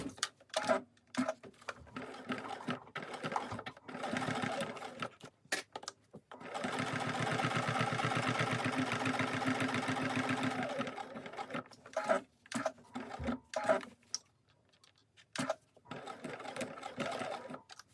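A sewing machine stitches a fabric glasses case, running in a steady buzzing whir for about four seconds in the middle, with short start-stop bursts and clicks before and after.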